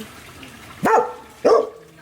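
Puppies give two short, sharp barks about half a second apart, close and loud against a quiet room background.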